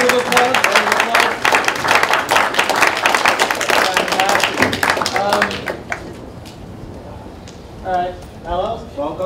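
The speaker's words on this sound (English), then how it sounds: "Thank you, wonderful applause." An audience claps loudly and densely after an electronic engineering capstone project presentation, the applause thinning out after about six seconds before a single voice begins speaking.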